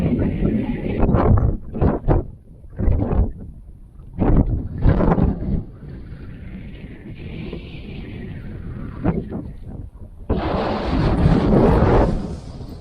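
Gusty wind on the open moorland at Yes Tor near Okehampton, West Devon, buffets the microphone in a loud, rumbling rush, with bursts of outdoor talk and a strong gust swelling near the end.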